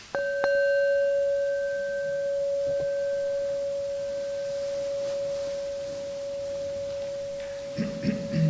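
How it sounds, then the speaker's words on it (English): A meditation bell struck once in a quiet hall, a single clear tone that rings on and slowly fades over several seconds, followed by faint shuffling at the end. "We can practice together until you hear the sound of the bell."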